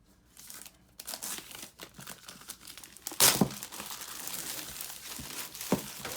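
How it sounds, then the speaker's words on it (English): Plastic wrap being peeled and pulled off a Beats Solo 3 headphones box, close crinkling and crackling bursts with a sharp tearing snap partway through, uneven and handled up close. "let's go ahead and take this plastic off"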